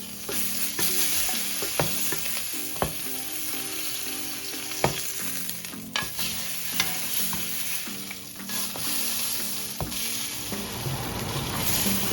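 Rack of lamb searing in a hot pan, a loud, continuous sizzle and spatter close up, with occasional sharp clicks and knocks as the meat is turned onto its ends.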